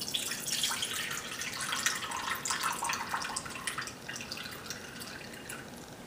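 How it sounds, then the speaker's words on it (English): Juice from a rinsed can of mandarin oranges poured into a bowl, a steady close trickling and splashing stream with small drips that runs without pause, with no talking over it. "what I'm gonna do is I'm just gonna pour in our juice."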